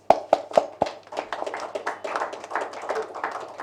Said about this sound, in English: So I think that's something to be applauded